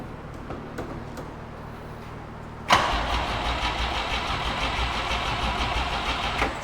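A 1968 GMC C2500 truck's big-block engine cranks briefly, catches with a sudden loud bark, and settles into a rough, steady idle, recorded close by without talk.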